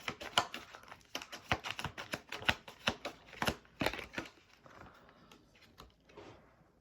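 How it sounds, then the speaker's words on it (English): Oracle cards riffle and slap in a rapid run of crisp, close flutters, each burst sharp and papery, easing into softer, sparser card sounds toward the end with no voices. "I'm pulling an oracle card first."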